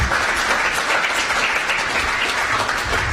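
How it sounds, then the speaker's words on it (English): An audience at a county State of the County address breaks into loud, dense applause, steady rapid clapping filling the hall with no voice over it. "Yay for trees. They deserve an applause."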